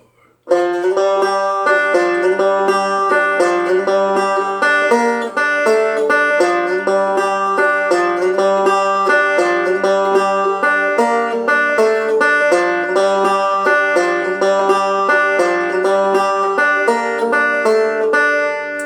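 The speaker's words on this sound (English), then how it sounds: "So you get this going, this little lick, it should sound something like this." A plucked string instrument plays a repeating melodic phrase, clear and close, with notes stepping downward in a steady rhythm and no talking.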